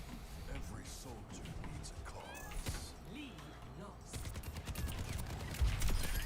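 A cat meows a few times, fairly faint, beneath steady gunfire from a shooter game and a person talking while gaming.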